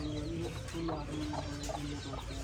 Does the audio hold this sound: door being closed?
no